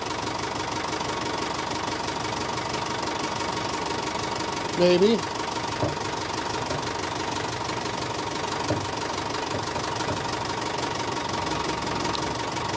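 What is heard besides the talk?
1974 Mercedes O309 diesel engine OM314 running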